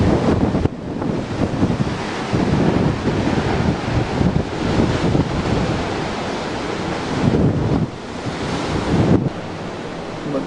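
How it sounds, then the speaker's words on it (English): Strong wind buffets the microphone while surf roars along the Tenerife coast, a loud, continuous rush with surging swells and brief drops, and no voices. "Very windy now."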